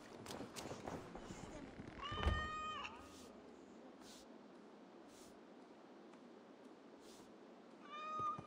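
Two bursts of cat meowing in Assassin's Creed Valhalla, one in the middle and a shorter one at the end, heard over a steady game ambience with soft footsteps early on.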